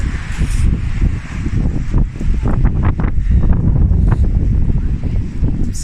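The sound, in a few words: wind blowing on the microphone outdoors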